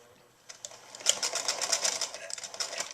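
Sewing machine stitching across knitted fabric to secure a steek, a quick, steady mechanical patter that builds from quiet and runs close and continuous with slight rhythmic pulsing.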